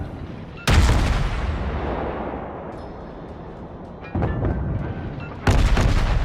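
Naval guns firing in World of Warships, three heavy booming salvos with rumbling decay between them, loud and close with no voices.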